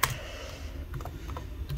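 Keys tapped slowly on a computer keyboard, a sparse run of soft clicks close by with no voices.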